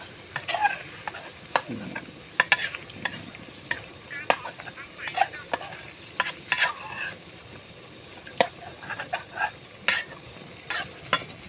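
Clattering stir-fry of instant noodles with egg and pork in a pan: sharp scraping and tapping strikes over a low sizzle, close by, with a brief bit of speech.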